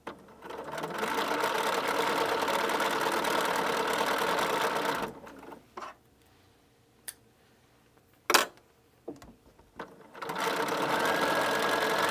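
A sewing machine stitches quilt pieces in long, steady, close whirring runs, pausing in the middle for a stretch of small clicks and handling taps before stitching resumes.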